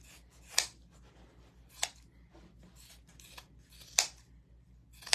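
Four crisp scissor snips through fabric, spaced irregularly over a quiet background, each a short sharp burst with a faint low hum beneath.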